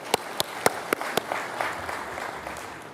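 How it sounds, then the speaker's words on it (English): An audience at a corporate event for a gold and copper mine in Papua New Guinea claps, starting with a few sharp, evenly spaced claps that blend into a steady patter of applause. "Let's give a big clap to Anthony and the team"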